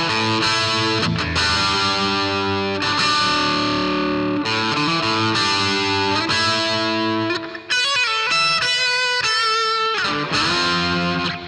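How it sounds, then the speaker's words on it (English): A loud, heavily distorted electric guitar plays a sustained chugging riff with chords, then shifts to a higher, brighter run of notes near the end. "we kick up the distortion and we go into this next part"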